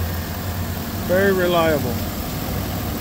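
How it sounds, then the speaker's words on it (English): A 2013 Chevy Tahoe police package engine idling, a steady low rumble running throughout at moderate level, with someone briefly speaking over it. "The motor sounds great. Idling for over 40 minutes."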